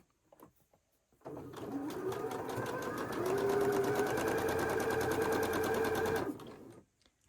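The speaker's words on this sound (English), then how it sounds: "Now we're going to sew 1/4 inch down this side." A sewing machine stitching a quarter-inch seam on a quilt block runs in one continuous fast, even whir for about five seconds, close and steady, starting and stopping cleanly.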